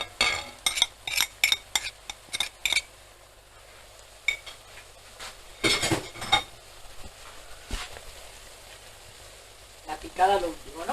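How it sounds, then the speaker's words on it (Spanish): Paprika and red pepper fry in a pan while callos are cooked, making a soft sizzle under repeated metal utensil clinks and stirring scrapes, with bursts of louder clatter and some talk between them. "Se refríe un poquito para que no sepa crudo."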